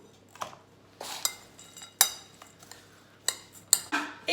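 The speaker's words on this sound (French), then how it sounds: "Vous remuez le tout." Homemade muesli with coconut pieces being stirred in a bowl: a string of light clinks and scrapes, a spoon knocking against the dish about once a second, close and fairly quiet.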